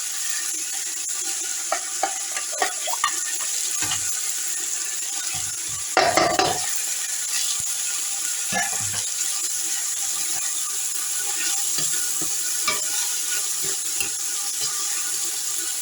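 Green beans and corn sizzle steadily in a hot pan while being stirred, a constant bright frying hiss broken by scraping and clanking utensil sounds, loudest around the middle, with no talking.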